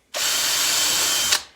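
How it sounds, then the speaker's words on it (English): Power drill pre-drilling a hole in a wooden fence board, a single sharp whirring burst starting abruptly, held steady for just over a second, then stopping with a brief spike and fading tail. "I always pre-drill."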